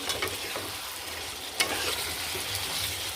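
Chicken pieces and potato chunks stir-fried with spices in a pan for a mustard chicken curry, a steady close sizzle with scraping stirs and a few sharper clicks of the utensil, no talking.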